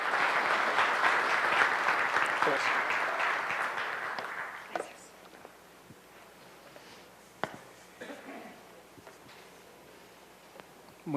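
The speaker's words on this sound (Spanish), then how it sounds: "Recibimos entonces con un gran aplauso" An audience at an infrastructure forum in Panama claps loudly for several seconds, then the applause fades to a few scattered claps and faint rustling.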